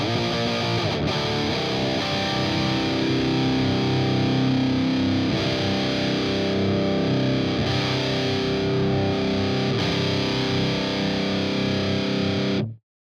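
A distorted electric guitar through an Orange Dual Dark 50 amp plugin plays thick, sustained chords, loud and steady throughout, with a few brief pauses before ringing out and stopping abruptly.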